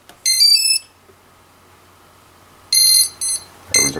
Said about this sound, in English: There's our beep.